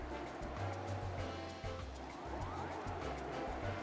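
Soft, continuous rushing wind and splashing water noise from a mount crossing water in a video game, faint and steady with a rhythmic pulsing texture.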